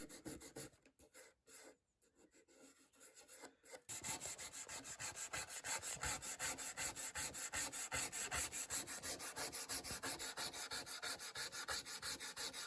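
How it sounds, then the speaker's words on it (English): Wood of a 1963 Epiphone Professional guitar body being sanded from coarse to very fine grit. The close, rhythmic rubbing strokes start after a few quieter seconds and then continue steadily and evenly. "Here I grind from coarse to very fine."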